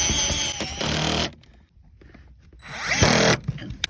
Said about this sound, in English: Front bolts seem easiest with the drill and a little extension.